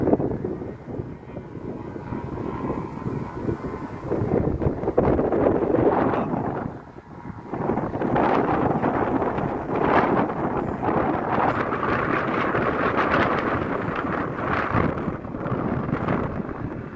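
Wind gusts steadily outdoors during a session flying a newly built 1.8 m flute kite, a loud, continuous rushing roar that buffets the microphone, with a brief lull partway through and no talk.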